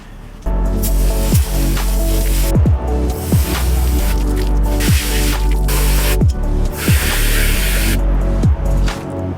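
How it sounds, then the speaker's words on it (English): Garden hose water sprays steadily onto a BMW 340i air intake filter, a loud continuous hiss with repeated squishy pulses and splashes as the stream moves over the filter. "I just sprayed the shit out of it with like a garden hose"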